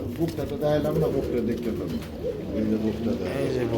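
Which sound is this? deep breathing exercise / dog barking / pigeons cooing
pigeons cooing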